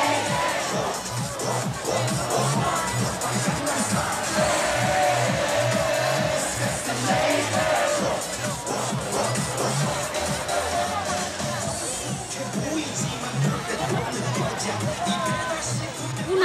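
A large outdoor crowd gathers for a flash mob in Cagliari, keeping up a dense, steady roar of cheering, shouting and babble, with music and voices blending throughout.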